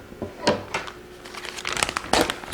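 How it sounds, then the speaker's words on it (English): Scissors snip through a FoodSaver vacuum sealer plastic bag close to its seam, giving a few crisp cuts and crinkles of thick plastic, close up and without speech. "I just simply cut real close to the seam"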